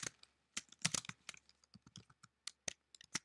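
Hello World being typed on a computer keyboard, a quiet run of separate key clicks in short irregular bursts and pauses, close and alone with no talk.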